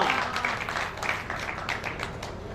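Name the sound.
audience applause after a poem recital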